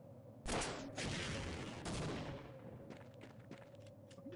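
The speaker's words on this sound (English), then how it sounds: "Good shotgun." Shotgun blasts in a retro first-person shooter game, a few loud booming shots close together followed by fainter rattling gunfire.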